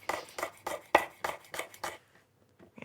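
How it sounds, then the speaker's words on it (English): A knife cutting red chilli into thin slices on a board: about eight crisp, evenly spaced cuts close up, then a short pause and a couple of faint taps. "And I love just the slightest amount of chilli. So nice thin slices."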